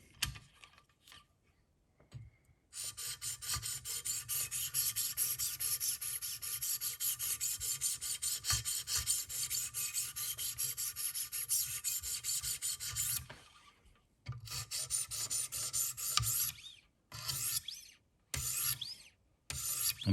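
Buck 422 Bucklite knife blade drawn across diamond stones on a Wicked Edge sharpener, a steady close rasping scrape in long strokes with brief pauses and shorter strokes near the end.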